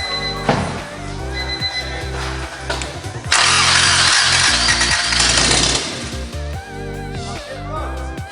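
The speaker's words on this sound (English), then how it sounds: "She starts. Try it again. Yeah. She sounds healthy too." A Honda CRX engine, hotwired on a budget rebuild, cranks with a harsh mechanical clatter, then catches and settles into a steady idle with a broad burst of noise in the middle.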